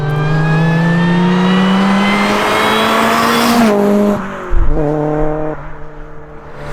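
A supercharged Honda Prelude track car engine revs loud and close, holding a high sustained rev before dropping, then blipping briefly again with a harsh, buzzy tone.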